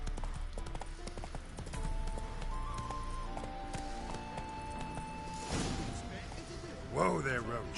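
Hooves of the horse Roach clip-clop in The Witcher 3 video game, a steady run of hoofbeats under in-game music and a voice speaking, with a louder burst of movement near the end.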